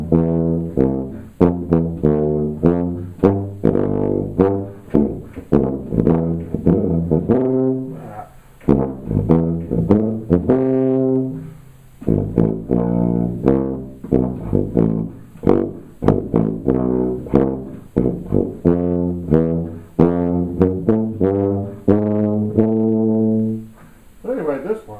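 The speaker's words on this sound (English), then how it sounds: "here's a little bit of the end of that, where, you know, when the tuba gets a chance to really honk" A Chinese-made Miraphone 191 tuba plays the closing passage of Brahms' Academic Festival Overture, with loud, sustained low notes in a steady sequence of phrases, heard up close and alone.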